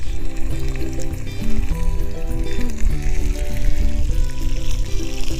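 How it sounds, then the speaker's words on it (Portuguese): Meat sizzling and frying in very hot olive oil, a loud, continuous crackle and spit close up with no talking. "Depois do azeite estar bem quente, vamos juntar as carnes."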